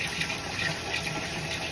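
Water runs steadily from a sink tap as a curly wig is detangled underneath, a constant close splashing gush with no pauses or voices.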